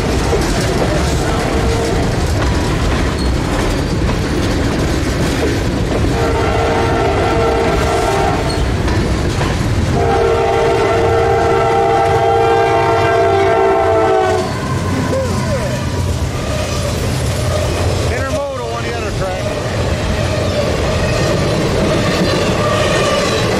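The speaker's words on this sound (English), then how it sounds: "Another train coming. He's a little faster." A long, slow mixed freight train with a distributed power unit rolls past at Fostoria, its horn sounding in several long blasts over a constant loud rumble and clatter of wheels on rails.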